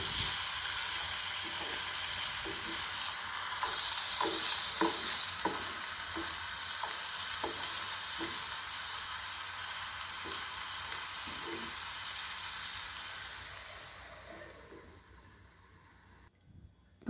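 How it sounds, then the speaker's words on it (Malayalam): Drumstick pieces sizzling in a hot pan while being stirred, a steady frying hiss with a run of soft rhythmic scraping clicks from the spoon, fading quieter toward the end. "ഇനി നന്നായിട്ട് ഇളക്കി യോജിപ്പിച്ചതിന് ശേഷം അടച്ചു വെച്ച് വേവിക്കാം."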